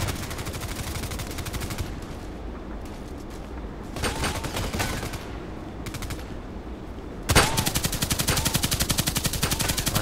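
Rapid automatic gunfire in the online shooter game Contract Wars, sustained bursts of rattling shots, with an even louder stretch of continuous fire toward the end.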